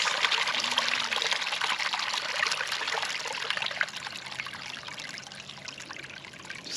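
Brown, dirty water pours steadily out of a pond filter fouled by a mouse nest, a close continuous splashing trickle that stays loud and even throughout, softening slightly toward the end.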